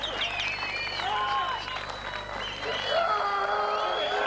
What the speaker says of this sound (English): The crowd will scream for one more.